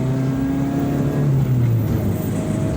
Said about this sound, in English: Let's do a first gear rip in this bad boy.